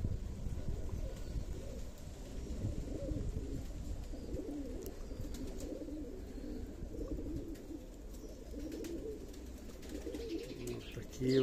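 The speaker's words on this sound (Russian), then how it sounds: "Вот тут голубочки такие одноцветные." Nut-marble fighting pigeons in a loft in Dagestan, giving soft low cooing over a steady background with someone speaking nearby.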